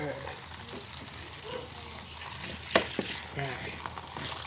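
Water is poured into a frying pan, a soft splashing gush with a few sharp clinks of cookware near the middle and end, over a steady low background hum.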